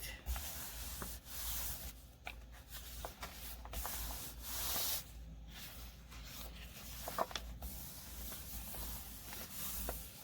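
Hand smoothing collage paper, including a map, onto a journal page makes a quiet continuous rubbing and brushing sound with faint paper crinkles, close up and soft.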